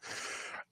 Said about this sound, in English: so you just hear my breathing